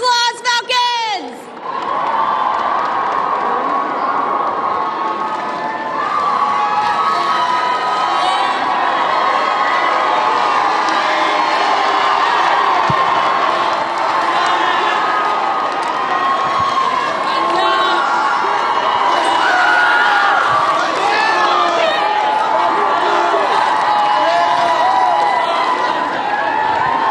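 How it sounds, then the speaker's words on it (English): A school pep rally crowd of students roars with cheering, whoops and applause, loud and sustained throughout, with voices shouting over the din. "Let's give them a round of applause"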